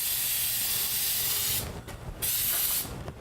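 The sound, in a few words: spraying lubricant on garage door springs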